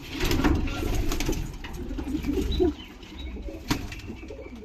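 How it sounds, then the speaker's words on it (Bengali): Old-line green Giribaj pigeons coo close by in a low, throaty murmur, with occasional wing flaps and rustling among the birds. "এগুলো সব পুরনো বিলাডের সবুজ গিরিবাজ পায়রা"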